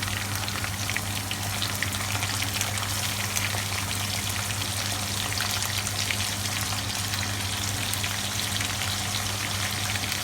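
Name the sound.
prawns sizzling in a hot pan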